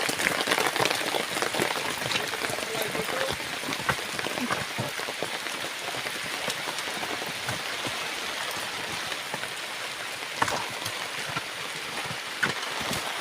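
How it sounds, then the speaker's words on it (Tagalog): Steady rain patters on a surface nearby, a constant hiss with scattered louder drops and occasional sharp taps. "Inabot na kami ng ulan, guys."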